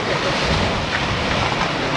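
Strong wind roars steadily against the microphone outdoors, a dense, unbroken rush with no voices.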